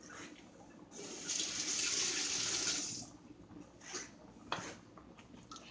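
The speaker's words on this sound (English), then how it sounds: "let me rinse this off." Tap water runs into a kitchen sink for about two seconds as something gets rinsed, with a quieter splash and a short gush afterwards, all fairly faint and close.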